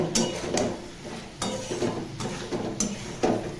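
A spoon stirs and scrapes a fish curry base being sautéed in a pan with sugar, the clinks and scrapes landing in irregular close bursts over a low steady sizzle.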